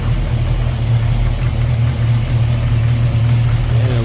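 A 1972 Chevrolet pickup fitted with hooker headers idles close by, a steady low rumble with a deep even hum that holds level throughout and has no voices over it.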